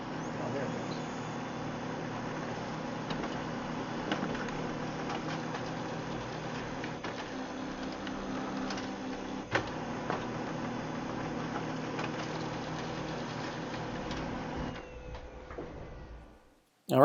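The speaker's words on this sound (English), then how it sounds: "And the printer is starting to print." An old serial printer connected to a retro color computer, printing a program listing with a continuous mechanical whirring and clatter of the print head, steady for about fifteen seconds before stopping abruptly.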